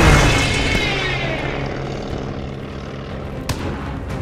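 A propeller airplane engine roars loudly overhead in the Call of Duty: Vanguard desert mission, a droning pass that fades gradually with a sharp thump near the end, no speech.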